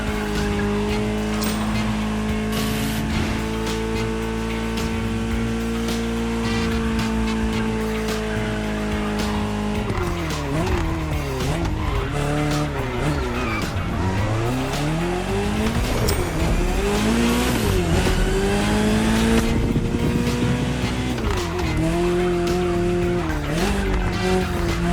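A Ferrari 308 GTS in The Crew Motorfest revs loudly and steadily, then swings through repeated sweeping tire squeals and skids as the engine pitch rises and falls, with background music throughout.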